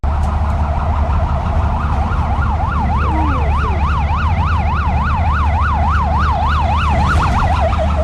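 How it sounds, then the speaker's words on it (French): A wailing police siren sweeps up and down steadily and loudly over a constant low rumble of traffic, holding the same volume throughout. "on entend la sirène de police bien avant de voir même la Ferrari arriver"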